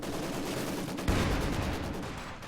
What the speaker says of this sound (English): The MG has gone into place. They are pinning those infantry squads.